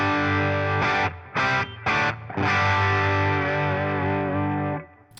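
An electric guitar runs through an ODR1 overdrive pedal circuit, giving a few short crunchy stabs and then a long ringing distorted chord that fades out.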